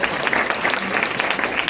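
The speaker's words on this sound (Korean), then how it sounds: "다시 박수 한번 부탁드리겠습니다" An indoor audience at a business presentation applauding, steady, fairly loud clapping with distinct individual hand claps popping through the dense crowd sound.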